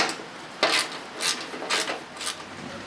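A metal cover being worked loose from an opposed-twin Briggs & Stratton lawn mower engine, with three or four short scraping, rattling bursts of metal handling at close range, no voice.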